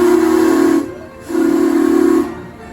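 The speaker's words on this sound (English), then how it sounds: "this locomotive actually boils its water and creates steam by burning propane" A propane-fired steam locomotive on the Kings Island and Miami Valley Railroad in Mason, Ohio sounds two close, loud whistle blasts, a short one and then a longer one, over a continuous hiss of steam.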